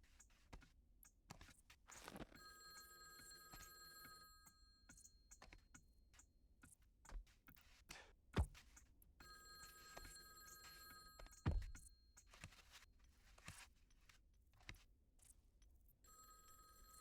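A telephone rings in the Baby Steps video game, two bursts of bright bell ringing separated by a pause, with soft footsteps and sharp thuds scattered through the scene.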